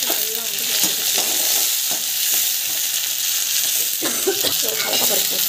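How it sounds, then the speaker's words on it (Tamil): Onions with green chillies sautéing in a hot pan, a continuous loud sizzle broken by scraping stirs at irregular intervals. "ஆனியன், இதெல்லாம் வந்து வதக்கிக்கலாம்."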